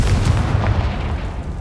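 In the video game Hogwarts Legacy, the Confringo spell lands as a deep, booming blast with a heavy low-end thud and a rumbling tail that fades over a second and a half.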